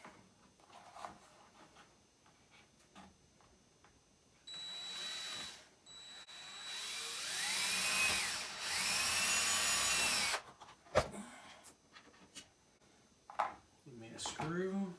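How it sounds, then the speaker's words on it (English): A power drill bores a hole through a plastic window shutter, a whining buzz lasting several seconds with a brief stop partway through. Quieter handling noises and clicks come before and after. "I'm gonna drill me a hole."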